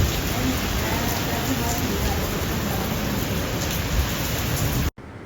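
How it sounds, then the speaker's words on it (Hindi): Heavy downpour roars as a dense, continuous hiss at close range, steady and loud, before cutting off abruptly near the end. "बारिश इतनी तेज़ आई थी एकदम।"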